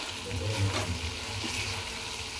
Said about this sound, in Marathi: हे चांगलं फ्राय होऊ देऊया आपण हे बघा